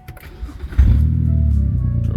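A BMW E90 325i cranks briefly and fires up, then settles into a steady close idle with a low, even rumble.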